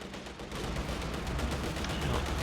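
StuG assault gun firing in the Company of Heroes 2 strategy game, a dense wash of battle noise with rapid gunfire and low booms running continuously, fairly loud with no talk.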